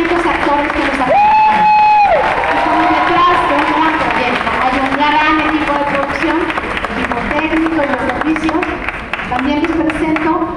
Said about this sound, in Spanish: Que vaya este aplauso a los más de 500 actores que nos acompañan.